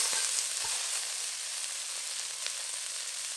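Prawns fry in oil in a pan, giving a steady close sizzle with a continuous bright hiss and faint crackles throughout.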